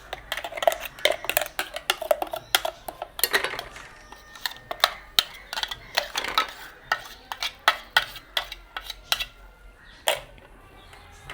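Repeated scraping and clinking of a spoon stirring a sambal mixture in a pan, steady irregular strokes, close by with no talking.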